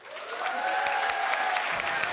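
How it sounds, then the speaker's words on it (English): An audience claps steadily after a conversation with NASA astronauts hosted by Scripps Oceanography at UC San Diego, the applause dense and sustained at a moderate distance throughout, with faint murmuring underneath. "So many people looking on, smiles, applauding."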